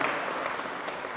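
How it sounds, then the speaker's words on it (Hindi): Audience applause at a public gathering, a short burst of dense clapping from a crowd, steady and moderately loud with no talk. "मुझे लगता है एक बार पूरी टीम के लिए आपकी ज़ोरदार तालियां बजनी चाहिए।"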